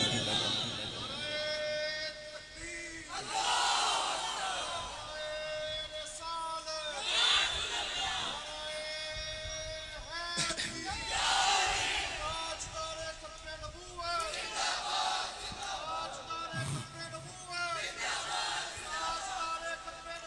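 A crowd chants religious slogans in unison at a Mawlid gathering on the Prophet's birth, loud and continuous throughout, with repeated surging shouts and a leader's voice calling out between the responses.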